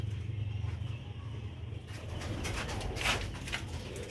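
Pigeons, old pure black-faced Sialkoti birds kept on a rooftop, coo softly over low background rumble, with faint outdoor noise and a brief rustle partway through.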